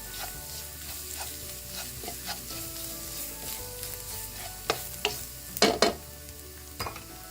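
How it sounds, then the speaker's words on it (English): Chicken and spices, including coriander powder, frying in a pan on a low flame, a steady close sizzle broken by scraping stirs and a few sharper clanks of the spatula against the pan. "Again, stir it on low flame. You want it to fry nicely."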